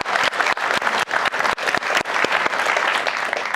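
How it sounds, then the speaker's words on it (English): An audience at a senior night event claps steadily for a few seconds, a dense run of sharp hand claps at moderate distance with no voices. "thank you for clapping anyway"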